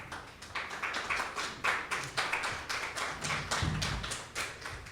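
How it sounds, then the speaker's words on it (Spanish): Audience at a cultural event applauding a speaker who is being introduced, a lively uneven burst of close, distinct hand claps that keeps going throughout without any talk. "para quien pido un fuerte aplauso"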